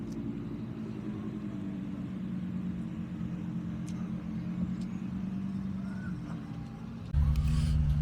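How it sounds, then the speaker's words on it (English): Two BMW M5 cars roll in at a UK car event, their engines a steady low rumble close by that swells louder near the end, with no talk over it. "Got two M5s rolling in"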